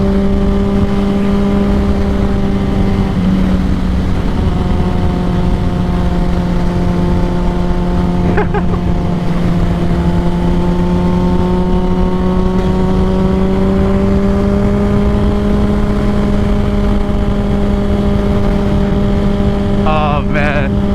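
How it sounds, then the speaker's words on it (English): A loud, steady engine drone with held pitch that rises slightly in places, fitting a Honda CBR1000RR motorcycle with a Two Brothers full exhaust revving during wheelies, close and continuous. "That guy's doing wheelies"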